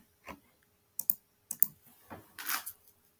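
A few scattered keystrokes on a computer keyboard, close and crisp, with short pauses between taps and a final quick flurry, no talking.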